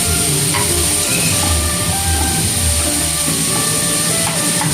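Onion sautés in a pan for chicken liver masala, a dense, continuous sizzle and frying hiss, loud and close, with faint stirring scrapes mixed in.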